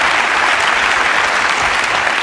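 A studio audience at The Tonight Show with Johnny Carson claps loudly and continuously, a dense, steady wash of applause throughout.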